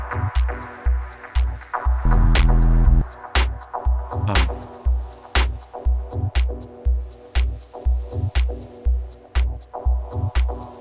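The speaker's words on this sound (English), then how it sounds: "Let's compare that to just our clean clap." A clean, raw clap sample for techno percussion, looping in a steady rhythm of sharp, dry hits over a deep pulsing kick, loud and up close, with no voices.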